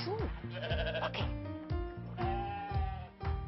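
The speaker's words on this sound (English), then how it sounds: "We fit 10 sheep in the barn." Several sheep bleat one after another, a near and fairly loud run of overlapping calls lasting a few seconds, with no speech over them.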